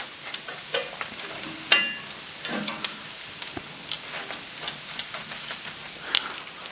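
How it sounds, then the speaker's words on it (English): Potatoes frying and crisping in a skillet give a steady close sizzle with crackles and pops, and occasional stirring or scraping sounds over it. No talking. "Potatoes, nice in the skillet,"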